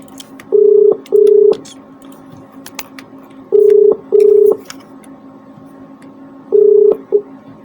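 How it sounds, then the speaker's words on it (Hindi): Touch-tone telephone keypad dialing in three short pairs of steady beeps, evenly spaced and loud, with faint line noise between; no ringing is evident. "हमारे पास फोन घंटी जा रही है"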